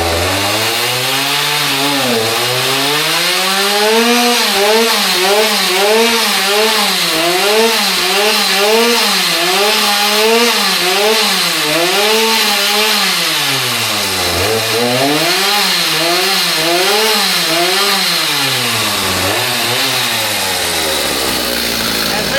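A Stihl MS 290 chainsaw that is leaking oil runs loud and close, its engine climbing and falling through repeated revs in long sweeping waves with no pauses.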